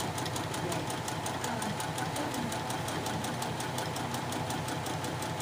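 A sewing machine stitches free motion embroidery thread painting in a fast, steady mechanical chatter of rapid needle strokes, close up and continuous.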